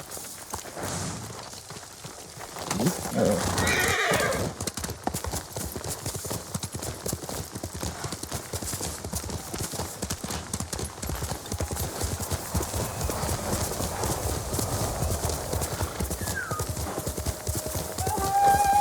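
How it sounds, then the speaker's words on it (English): Horse hooves clip-clop steadily over a dense, busy Ghost of Tsushima soundscape, with a neigh rising near the start; the hoofbeats continue throughout at a close, even pace. "Horse!"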